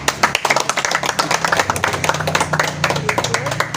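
A group of people clapping their hands at a gathering, sharp close claps in a fast uneven patter that carries on throughout, with some voices mixed in.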